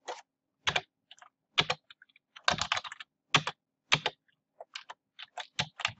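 Someone types on a computer keyboard in short, irregular bursts of crisp key clicks separated by brief pauses. The typing is close and fairly quiet, with no talking.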